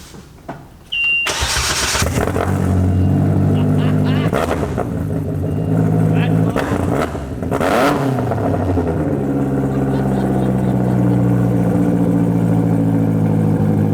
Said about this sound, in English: you're gonna like the sound of this exhaust